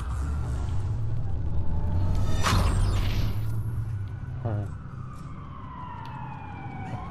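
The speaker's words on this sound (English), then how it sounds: "Guys, I just saw a bunch of cops fly by out there. So what? That's a lot of sirens for a blackout." Police sirens in the Watch Dogs video game wail past over a heavy traffic rumble, with rising and falling siren sweeps and engine noise that fades slightly toward the end.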